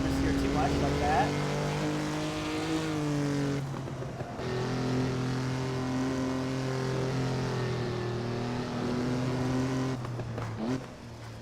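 A race car's engine in a racing simulator holds a strong, steady tone that rises and falls with gear changes. A brief dip comes around four seconds and another shift near the end, all close and prominent.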